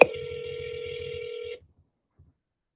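Telephone ringback tone heard on an outgoing cold call, one steady electronic ring lasting about a second and a half and then falling silent, with no talking.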